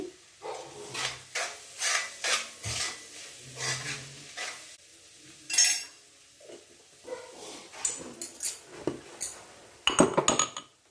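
Spices being stirred into a mussel roast in a pan, with a spoon scraping and clinking against the metal in short, uneven bursts, close and fairly loud, with no talk.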